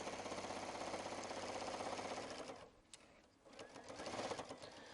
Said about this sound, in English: So we're going to sew to within a 1/4 inch, do my locking stitch